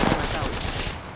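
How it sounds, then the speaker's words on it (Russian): Dense gunfire in a first-person shooter video game, a continuous burst of rapid shots filling the whole moment, loud and close. "Я под обстрелом."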